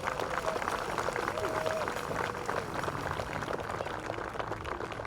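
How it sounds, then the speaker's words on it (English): Steady, fairly distant crowd applause fills a gathering for the National Day for Truth and Reconciliation, honouring a head lady dancer, a dense, even wash of clapping throughout with faint voices underneath. "I'd like to give you a round of applause to our head lady dancer"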